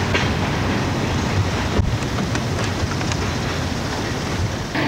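An Erie Lackawanna train backs toward its cars at a station, a steady rumbling roll with faint clanks and a sharp knock midway, somewhat distant with wind buffeting the microphone.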